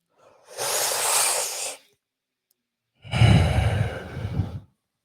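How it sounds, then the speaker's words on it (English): Two slow, deep breaths during a guided meditation, a long soft airy exhale followed after a pause by a fuller, breathier one, close and quiet with no talking. "Taking some deep breaths."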